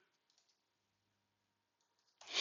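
A single sharp computer mouse click comes near the end of a quiet stretch, close and fairly loud, with a few faint ticks before it.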